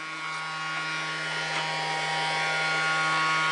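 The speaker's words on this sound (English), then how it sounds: "help Daddy vacuum" A household vacuum cleaner runs continuously with a steady, loud motor whine and hum that holds even throughout, with no voices heard over it.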